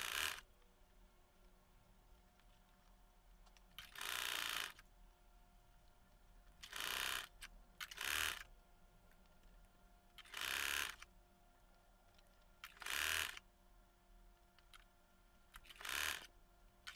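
An electric sewing machine runs in short bursts of about a second each while stitching a girl's frill frock, separated by pauses over a faint steady background hum.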